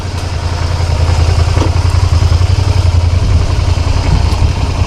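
A new motorcycle idles steadily at a pickup point in New Zealand just before a first ride, with a low, even engine rumble and light mechanical clatter held throughout.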